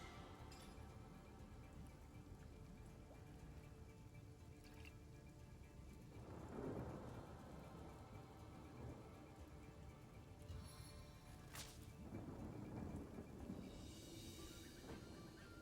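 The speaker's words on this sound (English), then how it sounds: "Thunderstorm!" Steady rain hisses throughout a thunderstorm in the fantasy role-playing game Divinity: Original Sin, with a couple of soft rumbling swells of thunder and a sharp crack partway through, no talk.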